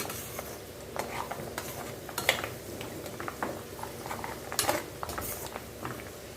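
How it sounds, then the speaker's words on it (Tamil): Moringa leaves fry in homemade butter ghee, a soft steady sizzle with frequent metal spoon scrapes and clinks against the pot, fairly close, with no talking. "இப்போ பார்த்தீங்கன்னா முருங்கீரை பாருங்க லைட்டாக பொருள் பொரிய ஆரம்பிச்சிருக்கு"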